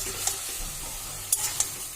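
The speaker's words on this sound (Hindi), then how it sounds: "सरसों का पेस्ट जो है उसमें पानी ऐड करके छान लिया था, तो अभी मैंने डाल दिया है।" Strained mustard paste thinned with water hits a hot pan and sizzles steadily and loudly up close, with a few sharp spatters and light clicks.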